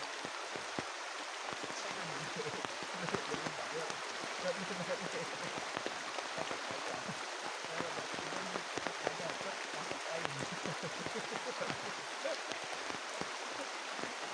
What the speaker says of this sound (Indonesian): malam ini diiringi suara aliran sungai